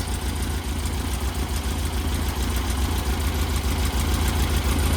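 An air-cooled Volkswagen engine, a 1641, idles with a rebuilt Weber 44 IDF carburetor, a loud, steady low rumble with an even, rapid pulsing throb and no talk over it.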